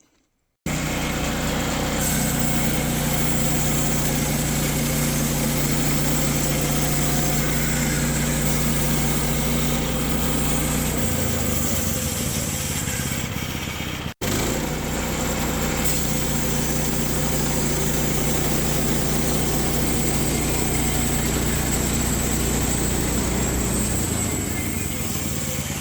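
A chainsaw engine fires up and settles into a steady, loud idle, running continuously with a brief dropout partway before resuming.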